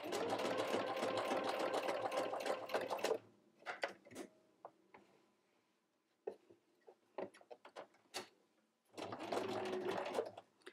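A sewing machine stitches microsuede fabric for a doll jacket or skirt. It runs in a loud, fast burst, pauses for scattered clicks and handling noises while the fabric is turned at a corner, then resumes stitching near the end.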